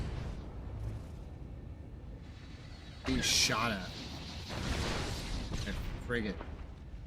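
Ships blowing up in the video game Star Wars: The Old Republic, a loud explosive burst with crackling debris, mixed with game effects and under someone talking.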